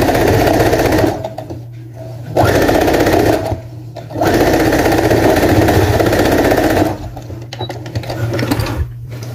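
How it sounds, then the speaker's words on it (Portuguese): A sewing machine stitches a straight seam on a vintage bodysuit with puffed sleeves and a square collar, running close and loud in three long bursts with short pauses between them. "Tomar cuidado pra não costurar nada embaixo e só fazer uma costurinha reta"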